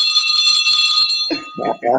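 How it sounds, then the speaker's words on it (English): A bright bell rings continuously for about a second at a panel event on skills and education, signalling a speaker's turn. It is loud and close, and a person then starts talking. "And for Ambassador, this is your bell."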